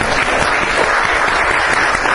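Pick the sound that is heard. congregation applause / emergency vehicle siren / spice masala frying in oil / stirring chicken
congregation applause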